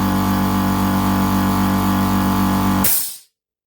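A small Vevor 8-litre air compressor runs with a loud, steady motor hum and drone, then abruptly shuts off with a brief hiss that fades into silence.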